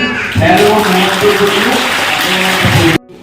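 Crowd clapping loudly at a school yoga day celebration, a dense burst of applause lasting about three seconds before cutting off abruptly, with a voice speaking over it.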